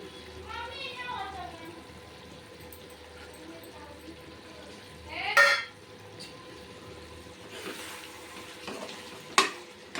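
Chicken masala curry with coconut powder stirred in a pan, giving soft scraping and a low sizzle under a voice, with a couple of sharper clinks from the spoon.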